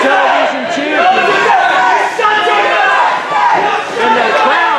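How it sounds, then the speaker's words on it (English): A wrestling crowd at a televised match roars and jeers at Baron Victor Krause, a dense, loud wall of chanting and shouting voices that swells and dips throughout. "the crowd is all over Baron Victor Krause right out of the gate"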